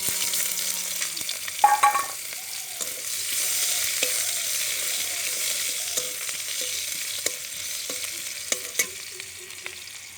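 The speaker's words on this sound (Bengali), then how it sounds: "এবার পেঁয়াজটা দিয়ে দিচ্ছি" Onion added to a hot kadai and stirred while frying for a dal with drumsticks, a steady sizzle with scraping ladle strokes and occasional clinks, heard up close with no talking.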